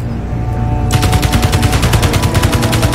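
Rapid automatic fire from an interior turret in the video game Space Engineers, a steady rattling burst of evenly spaced shots that starts abruptly partway in and continues loud and close until the end, over a low background hum.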